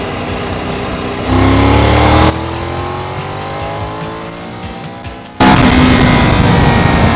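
A Triumph Tiger 900 Rally Pro motorcycle accelerates hard along a long, open straight road, its engine roaring loud and close with a steadily climbing pitch, then dropping briefly before surging again.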